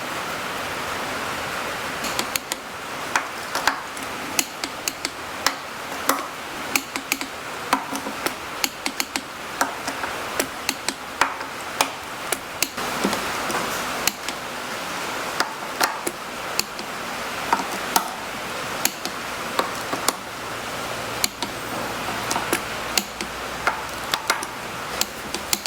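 Bolts being installed and torqued on a Farmall H tractor differential, a steady series of sharp metallic clicks, likely from a ratchet or torque wrench, repeating over a constant hiss of background noise.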